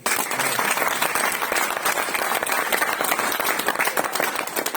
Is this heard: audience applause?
yes